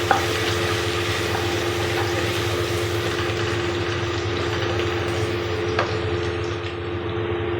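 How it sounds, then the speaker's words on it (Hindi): Onions frying with ginger-garlic paste in a pan, a steady close sizzle with faint stirring scrapes and a low background hum, continuous and even throughout with no speech. "इस पेस्ट के साथ बस 1 मिनट तक भून लेना है"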